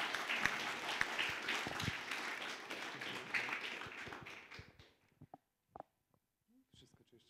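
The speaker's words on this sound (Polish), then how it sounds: "Także wielkie brawa." Audience at a church and democracy workshop giving a round of applause: dense clapping for about five seconds, fading into a few scattered claps and faint murmurs in a quiet room.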